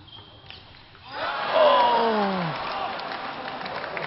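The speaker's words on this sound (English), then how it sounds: "The crowd goes berserk." A crowd at a table tennis semifinal of the 2014 Australian Open erupts into rising cheers and applause that swell and hold, with a commentator talking over the noise.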